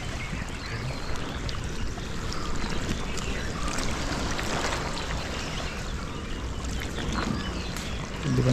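Small speedboat running on the sea off Devgad, with a constant rushing churn of water and motor noise that stays fairly steady throughout and carries no speech.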